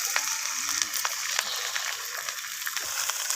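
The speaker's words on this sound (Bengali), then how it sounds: "এই ডিমটাকেও আমি নাড়াচাড়া করে একসাথে মিশিয়ে নিয়ে ভেজে নিচ্ছি" An egg scrambling into bhujia in a hot, oiled pan, stirred with a metal spatula: a steady close sizzle with light scraping clicks scattered throughout.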